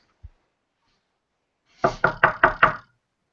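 Five hard, rapid knocks land on a door in a quick even burst, loud and close, after a single faint tap and a moment of silence.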